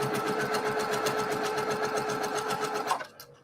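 Sewing machine stitching fabric quilt blocks together in a fast, steady rhythmic whir of needle strokes that runs loud and close for about three seconds, then stops abruptly.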